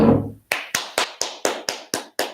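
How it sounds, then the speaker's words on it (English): A single person claps eight times in a steady, even rhythm, sharp and close, following a brief burst of voice at the start. "give her a round of applause"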